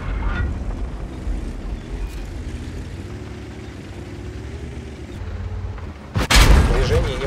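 A tank cannon shot in the World of Tanks video game, one loud sharp blast near the end following a steady low engine and battle rumble, with a voice speaking under the game sound.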